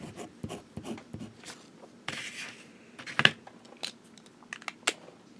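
A fountain pen with a 14K medium nib scratching across paper, a series of short, close scribbling strokes and taps with uneven rhythm, faint and alone in a quiet room.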